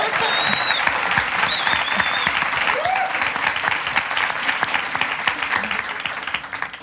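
A Turkish TV studio audience applauds at the opening of a relationship quiz show, a loud, sustained wash of clapping with a few sharp whistles rising above it.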